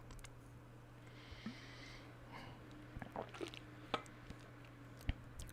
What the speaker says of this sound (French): de boire un petit peu d'eau